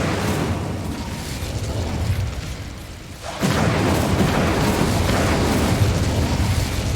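An Incendio fire spell in the Hogwarts Legacy video game goes off with a sudden loud whooshing blast partway through, then a sustained roaring rumble that stays steady after a quieter stretch of low game ambience.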